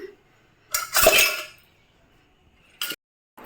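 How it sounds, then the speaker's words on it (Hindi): Tea utensils and dishes clink and clatter as they are washed at home, in one longer burst of close clanking and a brief later clink, with quiet gaps between. "चलिए चाय के हम बर्तनों को साफ़ करके ले आते हैं"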